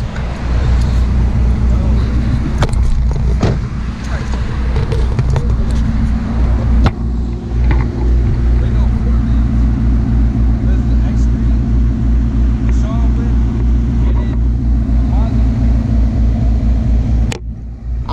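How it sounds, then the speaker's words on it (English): A BMW M6 and a Maserati GranTurismo idle loudly and rumble side by side outdoors, a continuous deep engine drone with occasional sharp revs and clatters, while people talk over it. "That's the Beamer sounding like that? Or is that the Mazzy?"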